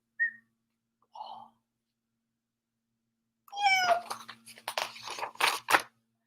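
A human voice imitates a frightened kitten's meow: a couple of tiny, faint squeaks, then a longer run of thin, wavering, high mewing cries, quiet and close.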